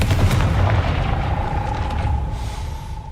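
A Confringo fire spell explosion in Hogwarts Legacy, a dense rumbling blast that fills the start and fades into a sustained roar, with a thin ringing tone trailing after it.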